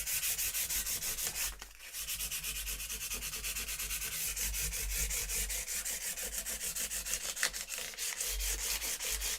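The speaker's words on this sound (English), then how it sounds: "600 sandpaper is where I'm starting." Steady hand sanding with 600-grit sandpaper, a continuous close abrasive rubbing with quick back-and-forth strokes and a brief pause near the start.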